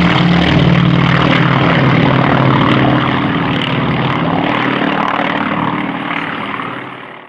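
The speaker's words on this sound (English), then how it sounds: "here comes that flight of two T-28 Trojans" A pair of T-28 Trojan propeller aircraft pass at an airshow, a loud, steady piston-engine drone that holds strong and then slowly fades as they move away.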